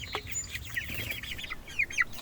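Meat chickens in their fourth week cluck and chirp in short, repeated calls, close and moderately loud over a low background hum.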